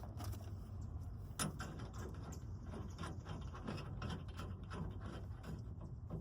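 A hand ratchet tightens a large, roughly one-inch bolt on traction bars fitted to a cammed Chevy Silverado pickup, giving rapid, continuous clicking close up in a garage, with no speech.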